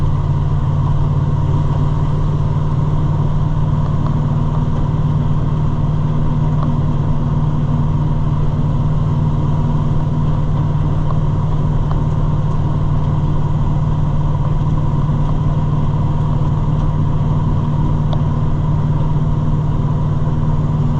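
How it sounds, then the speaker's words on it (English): An old truck engine runs steadily while driving during a soybean harvest, a continuous low rumble with strong bass throughout and no voices. "I do like driving this old truck."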